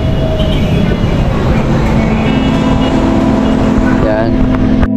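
A light rail (LRT) train rumbles past close by with a steady, loud roar and a faint metallic whine, continuous throughout.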